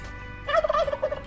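A turkey lets out a single loud, close warbling gobble after a brief quiet start, with no other sounds.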